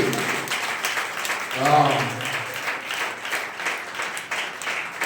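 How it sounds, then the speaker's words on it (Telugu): Sustained applause from an audience at a church gathering, continuous clapping with a voice briefly speaking over it near the middle. "చప్పట్లు కొడుతూనే ఉండాలి."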